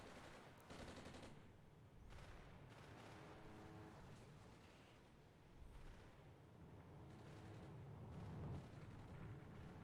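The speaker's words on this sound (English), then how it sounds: "engaging with cannons" Rapid cannon bursts from A-10 aircraft in the war game Armored Brigade, a dense, continuous roar of gunfire with repeated impacts layered over a rumbling battlefield backdrop, steady and loud throughout with no speech.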